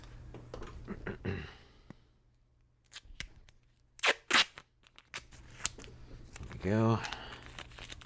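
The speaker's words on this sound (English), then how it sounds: "I'm going to get a new piece of tape for this one." Tape torn from a roll and handled at a scale-modeling workbench, giving sharp crinkly rips and brief crackles between quiet gaps, with someone talking briefly near the start and end.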